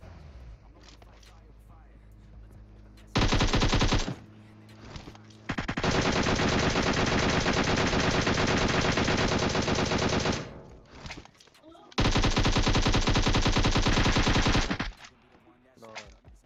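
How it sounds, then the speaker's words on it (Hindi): Long, loud bursts of automatic machine-gun fire from a PUBG Mobile battle, with quieter in-game ambience and footsteps between the volleys. "यहाँ पे मैं लगभग लगभग 100 गोली बर्बाद कर देता हूँ"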